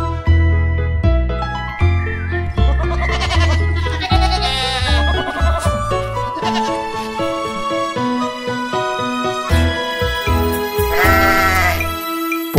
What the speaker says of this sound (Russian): послышалось блеяние ей